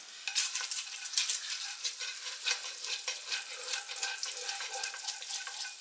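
Bacon grease sizzles and crackles steadily in a frying pan on the stove, a close, continuous hiss with bright spattering pops throughout.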